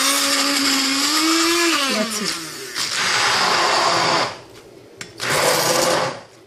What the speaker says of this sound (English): we will beat it with a hand blender